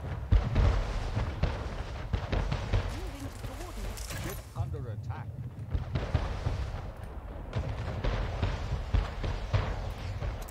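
A torpedo fired and exploding during a pirate naval battle in Anno 1800, heavy booms and rumbling blasts mixed with gunfire and a muffled underwater surge, with someone talking over it throughout.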